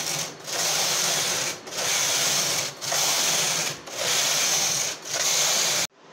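A knitting machine carriage runs a punch card pattern, sweeping back and forth in about five steady, even passes of dry rubbing clatter, each broken by a brief pause. The sound is close and fairly loud, with no voices, and stops abruptly at the end.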